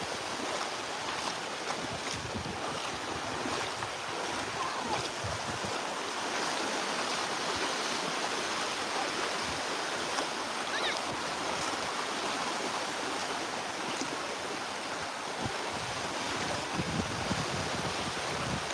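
Sea waves on the sand at Walberswick beach on the Suffolk coast at high tide, heard as a steady broadband wash of surf mixed with wind buffeting the microphone, continuous and fairly loud without voices.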